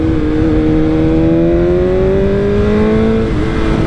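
A BMW S 1000 RR sport bike engine revs loud and close, a steady high-pitched howl climbing gradually in pitch before briefly dropping off near the end.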